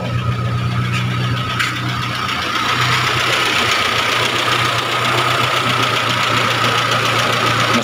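A 2003 Hyundai Excel with a manual transmission idles with a smooth, steady, slightly knocking engine hum and a somewhat raspy exhaust, heard close and continuous with no talk.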